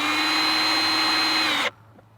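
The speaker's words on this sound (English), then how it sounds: "but just drilling in here" A power drill whines at steady high speed for over a second, then cuts off abruptly into near silence, drilling into a BMW M4 F8x footwell during a racing pedal install.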